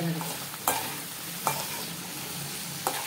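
Meal maker sizzles steadily in a hot pan while a utensil scrapes through it about three times at irregular intervals, close up.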